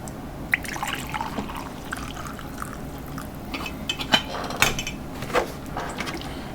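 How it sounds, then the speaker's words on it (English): Coffee is poured into a cup as a soft, quiet trickle of liquid, with a few light clinks along the way and no talking. "pour me some coffee"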